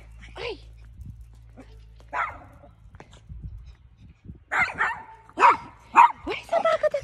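A dog barks several times in short bursts, growing more frequent toward the end, with people speaking and shouting in between.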